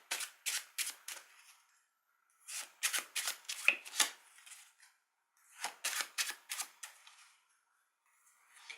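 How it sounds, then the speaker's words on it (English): Deck of playing cards being shuffled in three separate bursts of quick riffling flicks, close and fairly quiet, with silence between bursts. "you can just give the deck a couple of shuffles"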